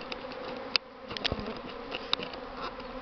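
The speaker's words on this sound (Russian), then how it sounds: "можно полюбоваться, как пчелы летают" Honeybees buzz close by in a steady hum on their spring cleansing flight on the first warm days, with individual bees droning past and a few sharp clicks or bumps.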